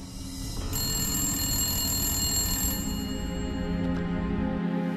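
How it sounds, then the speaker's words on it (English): An old telephone bell rings inside the Moundsville State Penitentiary, a former jail, starting after a brief rustle and shrilling continuously and steadily at moderate volume for several seconds. "The phone rings and I answered it"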